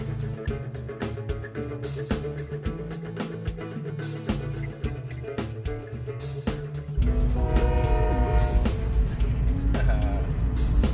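Rhythmic road and music sounds come first from a vehicle in the desert near Las Vegas, then a long, loud, droning train horn blares continuously through the final seconds.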